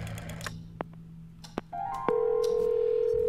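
A telephone dials a number with a few quick key beeps, then a steady ringing tone sounds on the line, clear and close, alone without any voice.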